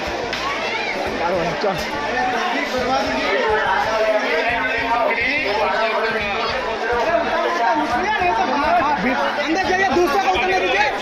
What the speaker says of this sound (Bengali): সেই ভিড় প্রচুর ভিড় প্রচুর